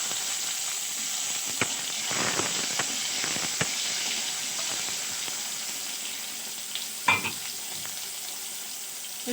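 Chopped tomatoes go into a sizzling pan of vegetarian banana-flower curry, making a quiet, steady hiss with a few scattered spatula scrapes and clinks, one sharper knock near the end, with no talking.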